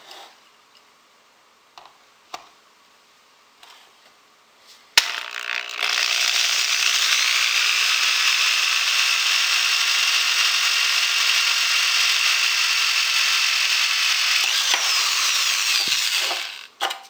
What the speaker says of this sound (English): So let's go ahead and drill the next one.